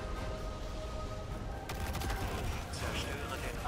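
In Destiny 2, gunfire is aimed at a ship's engine parts. Rapid bursts of shots grow denser halfway through, under a steady game hum, while a person talks quietly over it.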